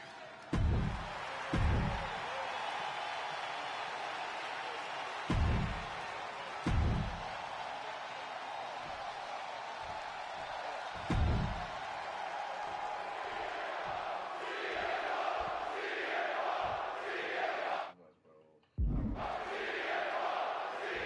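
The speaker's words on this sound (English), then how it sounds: "And just listen to this crowd here in Chicago." A Chicago arena crowd in the WWE 2K26 wrestling video game cheers and roars steadily throughout, punctuated by several loud slams, with a brief dropout near the end before the roar resumes.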